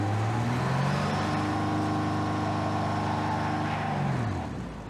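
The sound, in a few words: truck driving in Cyberpunk video game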